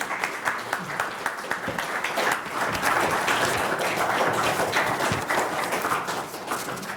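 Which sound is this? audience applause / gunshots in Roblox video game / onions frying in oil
audience applause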